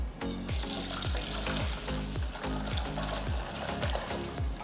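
Milk is poured from one vessel into another to mix it while setting curd in a clay pot, making a close, steady splashing and gurgling stream with a faint rhythmic pulse and no talking.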